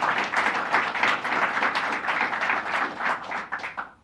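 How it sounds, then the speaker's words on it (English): An audience at a ribbon cutting for a New York apartment housing development gives a round of applause, with dense, steady clapping that tapers off at the very end. "Let's give her a big round of applause"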